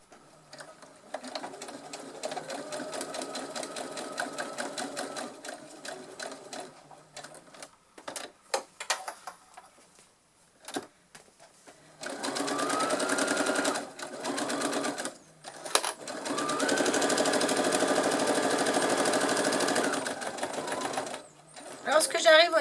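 Domestic sewing machine running a straight stitch along the edge of fabric pieces for a multi-pocket zip pouch, bursts of steady whirring stitching broken by pauses and handling sounds, with a voice talking between runs.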